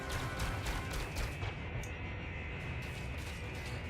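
An enemy ship fires on the player in the space combat game Elite: Dangerous, producing a dense, continuous barrage of booming, crackling weapon fire that fills the whole stretch with a few sharper bursts.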